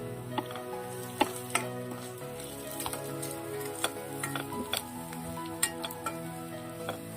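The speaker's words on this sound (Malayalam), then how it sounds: "ഇത്രയും ഇത് ഒന്ന് മൂപ്പിച്ചെടുക്കുക." Ground spices, garam masala and turmeric, roasting in a pan for prawn masala: a steady low sizzle broken by sharp, irregular scraping clicks of stirring, close and with no talking.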